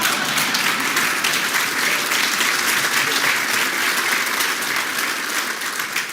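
Audience applause at a fraternity house dedication ceremony, loud, dense and sustained clapping from a crowd that fills the whole moment and fades slightly at the end.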